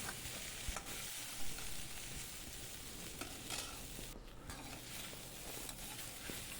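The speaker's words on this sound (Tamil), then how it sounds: "ஃபஸ்ட்டு வெண்டைக்காயை தனியாக நம்ம வதக்கி எடுத்துக்கணும்." Okra stir-frying in a pan gives a steady, soft sizzle, with occasional scraping and stirring noises close by.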